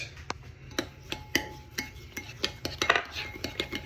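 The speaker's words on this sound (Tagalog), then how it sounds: "I-mix lang po natin. Kaysa matunaw yung asukal." Pork belly BBQ marinade with sugar being mixed in a bowl, giving a series of light, irregular utensil clinks and scrapes against the dish at close range, with no talk.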